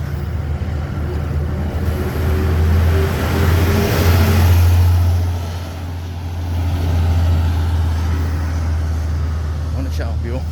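A tourist bus near the Chocolate Hills in Bohol rumbles past with a deep engine drone that swells, fades and swells again, with faint voices nearby.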